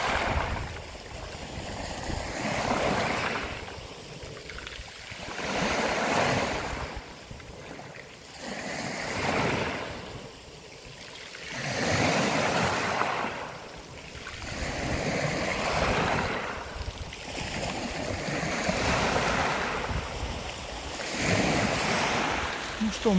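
Sea waves roll onto the shore at Lazarevskoye on the Black Sea near Sochi, loud rhythmic surges breaking every few seconds under constant wind buffeting the microphone.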